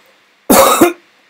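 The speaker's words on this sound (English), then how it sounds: "Sorry for the cough." A single harsh cough bursts out close to the microphone, followed by a short trailing rasp, with silence around it.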